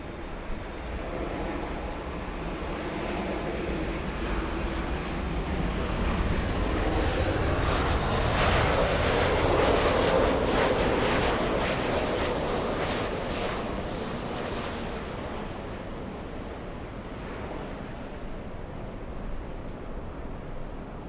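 Airliner jet engines roaring on runway 24 left at LAX, a broad sustained rumble that swells to a peak midway as the aircraft spools up and rolls, then slowly fades, heard alone at a distance.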